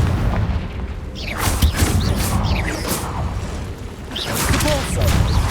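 A Confringo fire spell bursts in the Hogwarts Legacy video game, throwing out a series of loud, booming blasts with crackling and whooshing bursts over steady background rumble.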